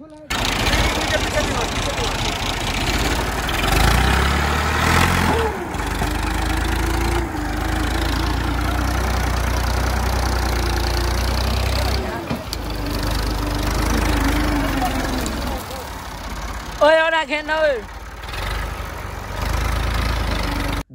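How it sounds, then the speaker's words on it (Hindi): Tractor engine running at idle outdoors, a steady low throbbing drone throughout with a few brief dips and clunks, and a short burst of other sound near the end. "लोड कर ले फिर यहाँ से ट्रैक्टर निकालते हैं"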